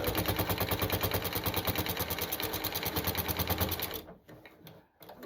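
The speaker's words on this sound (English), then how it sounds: "I'm hearing some funky noises coming from my machine." A sewing machine stitching a fabric jelly roll runs with a rapid, steady mechanical clatter and an odd, uneven noise, close and loud, then stops abruptly near the end, leaving a few brief softer rattles.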